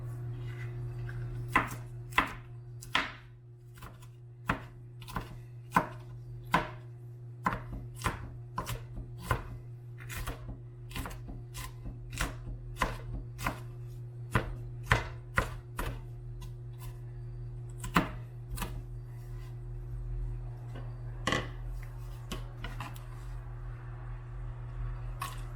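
A knife chops ghost peppers and habaneros on a board in steady, uneven strokes, each crisp near tap standing out over a constant low hum, with a few pauses between bursts.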